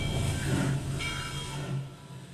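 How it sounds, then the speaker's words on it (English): A steam train rumbles and hisses at close range, a low steady drone with faint squeals, gradually easing off as it comes to a halt. "Why is the train stopping?"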